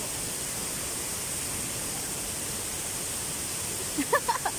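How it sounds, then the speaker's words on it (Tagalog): Daranak Falls in Rizal pours as a steady, dense roar of falling water, unbroken and enveloping, with a few faint sounds briefly rising near the end. "So, andito tayo sa Daranac Falls naman."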